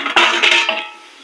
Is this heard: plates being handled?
yes